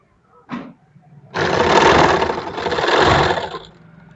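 A sewing machine stitches elastic into a trouser waistband: a brief whir, a pause, then a steady close-up run of rapid stitching that lasts about two seconds before it slows and stops.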